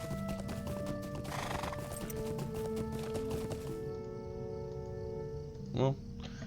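Horse hooves clip-clop steadily at a riding pace in the Lord of the Rings Online video game, with a horse whinnying, spoken commentary over it and a brief louder knock near the end.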